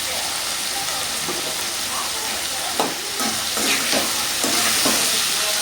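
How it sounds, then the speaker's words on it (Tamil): Onion, garlic and tomato sauté in a salted pan, giving a steady broadband sizzle with a few soft stirring scrapes and clicks spread through, moderately loud and close, with no talk. "இது அப்படியே மெதுவாக வதங்கட்டும்"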